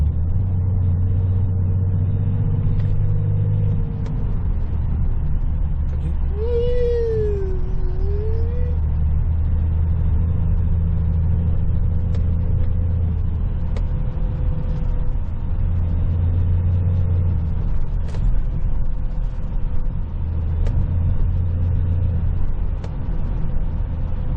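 A BMW X5 E70 with the M57D30 diesel engine idles with a low, steady rumble, and a faint wavering whine rises and falls over it midway, the suspect noise from a car with a history of turbo replacements.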